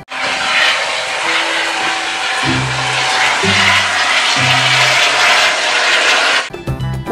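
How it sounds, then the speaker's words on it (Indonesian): A helicopter among toy vehicles gives a loud, steady roaring whoosh of rotor and engine noise that holds for about six seconds, then cuts off abruptly. "ada helikopter"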